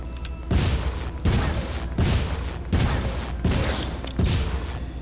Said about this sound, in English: Now I'll tell him to shoot this pillar.